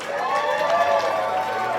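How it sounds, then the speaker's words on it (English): Wedding guests applauding and cheering at a reception, a dense burst of clapping mixed with crowd murmur and voices, fairly loud and sustained through the short stretch. "another round of applause for Betty, please"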